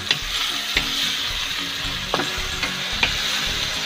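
Eggplant frying in a pan while being stirred, with a loud continuous sizzle broken by several sharp utensil scrapes and taps.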